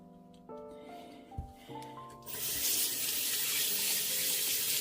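A tap is turned on and water runs over a vintage doll, a steady, loud rushing hiss that starts partway through after quieter handling sounds and then carries on to the end.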